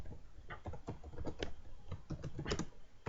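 Quick, uneven keystrokes clatter on a computer keyboard while Java code is typed, a close, steady patter of clicks with no voice over it.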